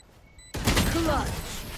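Gunfire in the online shooter Valorant breaks out suddenly after a quiet moment, a loud close burst of shots followed by continuing game noise, with a voice talking over it.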